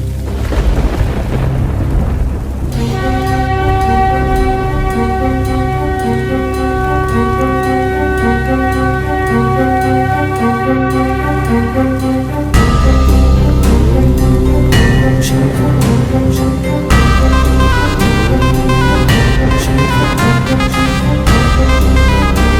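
Sudden heavy rain with thunder, layered with loud sustained musical tones and a deep rumbling low end that continues throughout, with sharp crackling hits scattered across the length.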